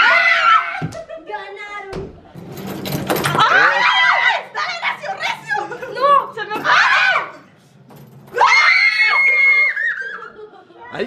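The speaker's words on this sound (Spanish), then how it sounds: "¡Ay, qué gritos!" People scream and shriek loudly on a snowy holiday at Big Bear Lake, with high excited cries mixed with laughter and shouted talk, close and chaotic, briefly pausing before another burst of screaming.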